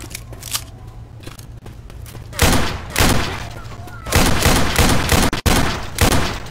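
Rapid gunfire in the zombie shooter Left 4 Dead 2: loud, dense bursts of shots begin a couple of seconds in and come in clusters, with a longer sustained volley near the end over a low background hum.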